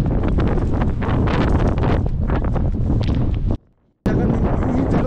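Strong wind in the Zanskar highlands roars and buffets the microphone almost continuously, with a brief silent dropout near the end and voices talking over it.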